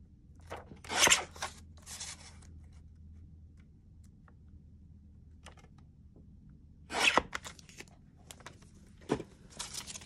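Scissors cut a book page close by in short crisp snipping bursts, two clusters early and another group later, with quiet pauses between them.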